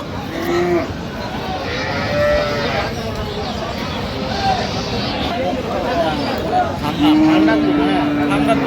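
Dairy cows and calves moo several times, near and far, at a cattle market in Aftabganj, Dinajpur, among the steady murmur of a crowd with people talking in the background.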